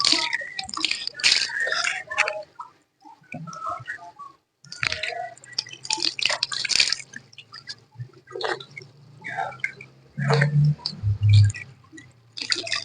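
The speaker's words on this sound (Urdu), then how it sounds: "ناک میں پانی ڈالنا۔" Water drawn into the nose and rinsed during wudu ablution gives close, wet dripping and snorting splashes in irregular bursts, separated by quiet gaps, ending with a few low gurgles; no speech.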